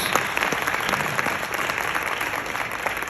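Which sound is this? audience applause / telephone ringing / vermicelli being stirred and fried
audience applause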